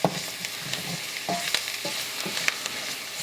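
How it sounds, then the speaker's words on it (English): Flour and browning garlic stirred in a hot pot for a prawn bisque, a busy scraping and sizzling texture with quick spoon strokes, close and fairly loud with no talking. "And we'll stir that around, cook out some of that flour flavor."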